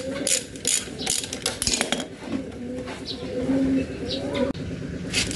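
A ratchet working bolts loose on an ER50 water-cooled diesel engine, with bursts of close clicking ratcheting and metallic taps, while birds coo and chirp in the background.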